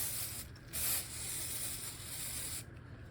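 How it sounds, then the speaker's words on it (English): Hairspray misted from an aerosol can over zombie face-paint makeup, a short soft burst of hissing followed by a longer steady spray, close and fairly quiet with no talking. "So then I'm going to just finish it off with a little bit of hairspray."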